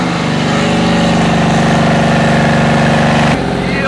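A Porsche 964 running on factory cams rumbles steadily on a dyno, its loud, close engine note holding a throbbing low pulse throughout before the tone shifts slightly near the end.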